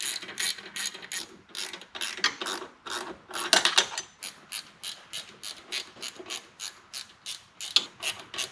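A ratchet tightens the rocker box bolts on a 2004 Harley-Davidson Road King Twin Cam, giving repeated bursts of close, crisp clicking strokes in an uneven rhythm with short pauses between pulls.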